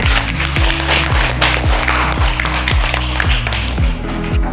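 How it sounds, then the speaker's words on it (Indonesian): Classroom applause for a student group, a dense wash of clapping over a steady, regular low thumping beat, loud and continuous with a faint voice underneath. "tepuk tangan untuk kelompok 3"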